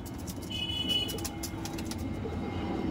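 Two pigeons coo softly in a continuous low murmur, moderately near, with faint higher bird chirps above a steady background hum.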